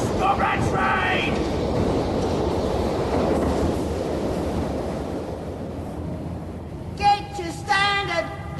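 Train effect for a Passport to Pimlico audio drama: a steady rumbling rush of rolling carriages fills the scene, with brief whistle-like tones near the start and end, loud and close.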